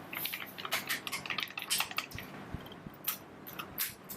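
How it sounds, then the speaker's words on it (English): Hair bleach powder being stirred together with activator in a bowl at home, soft wet squishing and light scraping clicks repeating close by, with no talk. "You got to mix the bleach with the activator."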